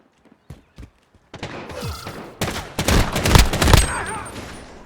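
Bursts of loud gunfire and a rattling fusillade from the video game Call of Duty: Modern Warfare, starting with a few sharp isolated shots, then building into dense overlapping fire with a shout mixed in.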